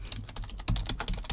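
Rapid clicking of keys on a computer keyboard, a quick burst of close, crisp typing strokes.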